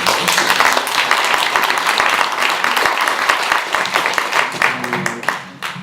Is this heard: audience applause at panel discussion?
yes